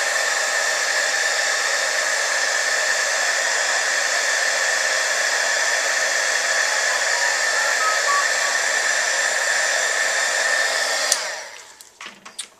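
A heat tool blows a steady, loud whooshing hiss while melting embossing powder on a handmade Christmas card, running continuously before cutting off near the end with a few small clicks and handling sounds.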